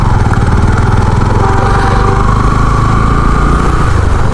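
A motorcycle engine runs steadily at a toll gate, giving a loud, continuous mid-pitched drone that holds without pause or break.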